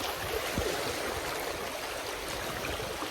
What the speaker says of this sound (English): Bit of fast-flowing currents here.